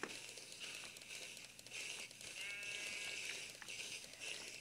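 Sheep bleating in the Minecraft video game, a drawn-out bleat rising over a dense, steady bed of game background noise, with shorter crinkly bursts around it.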